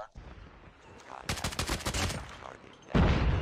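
The Oden rifle is fired from the hip in a video game: a rapid, close burst of heavy automatic shots, then another loud volley, with faint talk briefly underneath.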